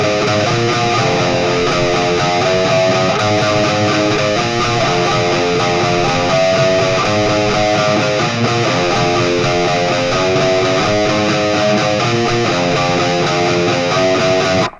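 Loud, dense electric guitar riffing with heavy distortion, playing a steady chugging rock passage that stays full and driving throughout, with no voices.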